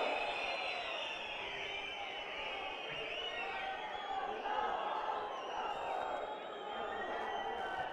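A large crowd at Priyanka Gandhi's outdoor rally at Thodo Ground in Solan cheers and shouts in a steady, far-off roar that holds for several seconds, with no clear clapping standing out.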